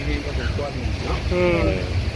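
Dry wind blows outdoors, buffeting the microphone with a steady low rumble throughout, while someone talks over it.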